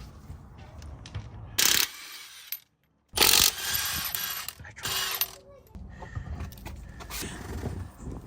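Lug nuts, 21 mm, being loosened on a Kia Telluride wheel, with a few loud bursts of ratcheting mechanical clatter separated by quieter workshop noise and a short silent gap.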